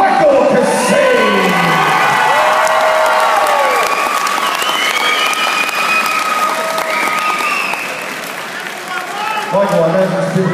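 A large crowd at a fight event erupts in loud applause, cheers and whoops for the winner of a first-round armbar submission, sustained and dense, with an announcer's voice over the noise.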